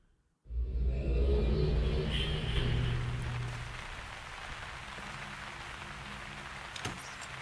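Steady rain in the video game Uru: Ages Beyond Myst, a dense hissing patter with low rumble that swells in suddenly, holds loud for a few seconds, then settles into a softer continuous wash.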